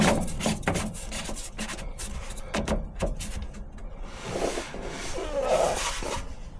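A spin-on fuel filter is screwed back onto a Cummins diesel engine, producing close rubbing and scraping with irregular knocks that give way to softer friction.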